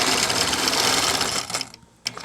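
Sewing machine quilting in stitch regulated mode for ruler work, a loud continuous rapid mechanical whir that stops briefly and then restarts near the end.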